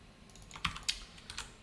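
A handful of light, quiet keystrokes on a computer keyboard while code is being written, with two or three sharper clicks standing out in a short, irregular burst and no voices.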